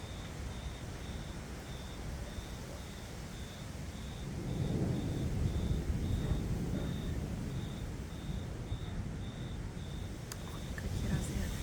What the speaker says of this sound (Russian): Опять ветер, молния, гроза.